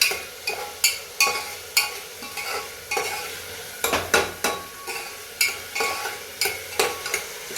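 Spinach rice with onion and tomato being sautéed in a pan, a spoon scraping in steady repeated strokes over a soft sizzle, close and fairly loud with no talking.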